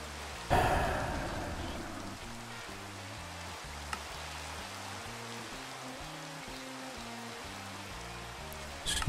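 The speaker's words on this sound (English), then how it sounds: "of course it's raining" Steady rain falls in a video game, a soft even hiss that continues throughout under a low repeating musical pattern, with a brief louder burst near the start.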